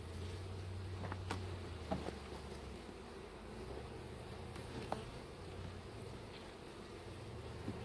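Honey bees crawling over hive frames during package installation, a very faint, low buzzing hum with a few light clicks and handling taps, quiet and close, no voices.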